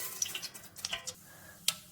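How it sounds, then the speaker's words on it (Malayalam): Mustard seeds splutter in hot oil at the start of a pineapple pickle, giving a few scattered, sharp little pops and crackles at close range. "എണ്ണ ചൂടായിട്ടുണ്ട്, നമുക്ക് കടുക് ഇട്ട് കൊടുക്കാം."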